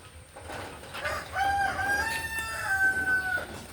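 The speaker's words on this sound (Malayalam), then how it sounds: "നല്ല നാടൻ കോഴിക്കളാണ്." Native chickens cluck and a rooster crows at a house beside a bypass road, the crow rising out of soft, fairly faint background clucking and ambient noise, with no talk.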